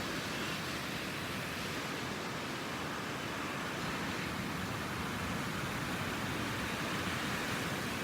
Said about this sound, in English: the waves coming in and going out.